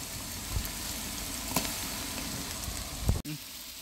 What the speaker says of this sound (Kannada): ಈರುಳ್ಳಿ ಕೆಂಪಗಾಗೋ ತನಕ ಫ್ರೈ ಮಾಡ್ಕೊಳ್ಳಿ.